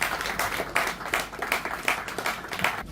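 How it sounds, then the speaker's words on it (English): Audience applause at an AI adoption and innovation session, a steady wash of clapping with soft swells, moderately loud and without talk over it. "Can we all give a big round of applause for Gibran"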